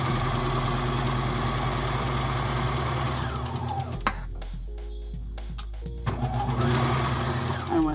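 Sewing machine stitching a fabric drawstring bag, running steadily and loudly, then pausing briefly and starting again for a short backstitch before continuing.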